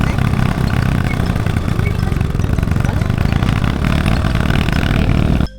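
A motorcycle engine runs close and loud with a continuous clattering rumble, steady throughout before cutting off abruptly at the end.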